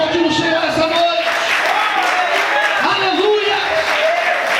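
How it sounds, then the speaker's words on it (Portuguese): A Portuguese-language church congregation applauds the Lord during an evening service, with continuous clapping running under loud voices, shouts and praise throughout. "Você pode aplaudir o Senhor essa noite."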